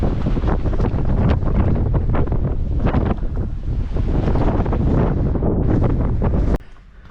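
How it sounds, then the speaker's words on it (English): Strong wind buffets the microphone on an exposed mountainside about two-thirds of the way to the summit, a loud, continuous roar and rumble that cuts off abruptly near the end. "now it's getting bloody windy up here"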